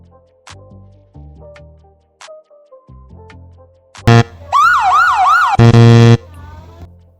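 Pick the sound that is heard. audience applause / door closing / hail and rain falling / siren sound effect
siren sound effect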